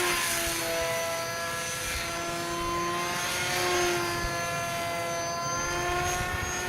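Hobbyking Bixler 2 foam model plane at full throttle, a steady electric propeller whine with a constant buzzing pitch that swells slightly as it passes, heard continuously against outdoor wind noise.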